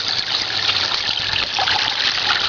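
Water churns and swirls inside a hand-cranked Miller tabletop drop trap sluice, giving a steady, fairly loud rushing and trickling wash with no pauses and no voices.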